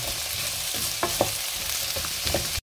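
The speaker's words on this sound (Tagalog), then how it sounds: "Igisa na natin to guys." Ingredients for igado, carrots among them, sauté in a hot pan with a dense, constant sizzle and several light spatula stirs, close up and with no voices.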